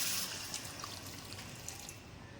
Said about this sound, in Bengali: এবার একটু গরম জল আমি এতে অ্যাড করে দিচ্ছি